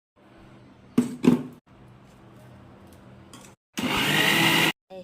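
A mixer grinder grinds roasted vallarai keerai with asafoetida in a low, steady whir, broken by a couple of sharp clatters and one loud, harsh burst of high-speed grinding near the end.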